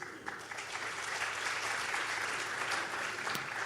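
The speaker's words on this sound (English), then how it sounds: "A big applause to our panelists." Audience applause for panelists at a conference panel in Colombo, Sri Lanka: steady, dense clapping from a sizable crowd, moderately loud and continuous for a few seconds with no talking over it.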